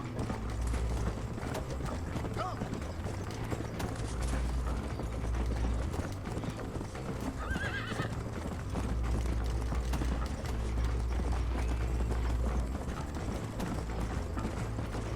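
Horse hooves in the Western video game Red Dead Redemption clip-clop in a steady galloping rhythm throughout, over continuous low rumbling game sound and music, with a brief mechanical clatter midway.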